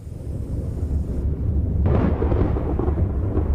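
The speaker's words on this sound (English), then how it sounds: "Distant thunder, a sign the long dry season may soon come to an end." Distant thunder rolls across the plains of Zambia near the end of the long dry season, a deep, sustained rumble that swells and thickens partway through, with no voices.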